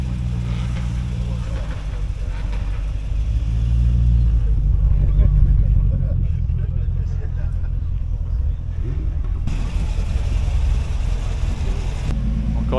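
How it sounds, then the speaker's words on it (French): Older TVR sports car with a V8 engine rumbling past at an outdoor classic British car gathering, a deep engine note swelling and fading while people talk nearby. "Encore une TVR mais plus ancienne celle-ci. Avec un V8 là aussi."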